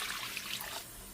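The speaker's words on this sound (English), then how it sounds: "Now pour in 2 cups of chicken stock" Chicken stock being poured into a pan, a steady close liquid trickle and splash filling the whole brief moment with no voices.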